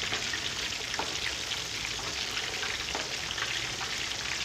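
Chapli kababs fry in a pan of hot oil while oil is spooned over their tops, giving a steady close sizzle with a few soft splashy ticks and no talking.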